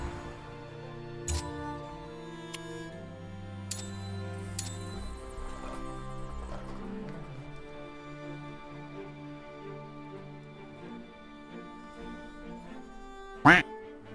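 Duck quacks in the game Humankind, several short bright honking calls spaced through a steady background music bed, with a louder burst near the end.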